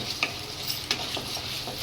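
Water poured onto well-fried spice paste in a pan for a rohu fish kalia curry, giving a steady soft sizzle with a few light stirring clinks.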